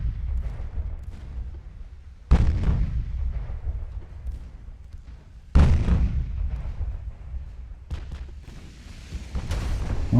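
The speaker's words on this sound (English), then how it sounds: "Light cruiser torpedo hit." Booming explosions from torpedo hits on ships in a naval battle game, Ultimate Admiral: Dreadnoughts, with three or four heavy blasts spaced a few seconds apart over a low rumbling background.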